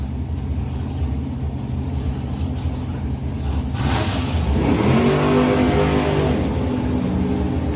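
Two drag racing roadsters at a European finals meeting, engines droning and then swelling into a loud rising roar as they accelerate away down the track, with no talking.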